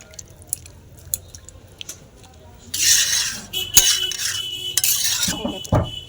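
Potato, cauliflower and fish curry being stirred in a pan, with light scattered clinks at first, then louder wet sloshing and scraping strokes of the spoon through the liquid, close and continuous toward the end.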